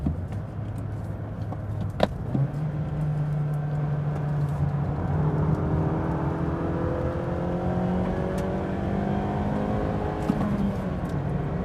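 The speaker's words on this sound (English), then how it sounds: "Soft rev limiter." A Mazda3 engine climbs through the revs toward its soft rev limiter, pitch rising steadily in a long sweep, a second pull following later, with a few clicks and no talk.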